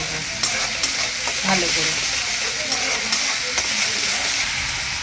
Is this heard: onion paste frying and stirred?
yes